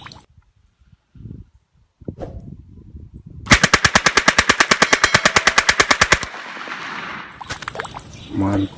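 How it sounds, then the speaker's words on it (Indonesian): A toy MP40 gun fires a long, loud, rapid burst of evenly spaced clicking shots lasting about three seconds, close and alone, with quieter handling noises before and after. "ternyata tembak-tembakan MP40 teman-teman"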